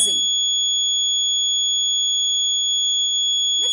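An electric buzzer wired with a capacitor and battery in a simple circuit gives a loud, continuous high-pitched electronic tone that holds steady throughout.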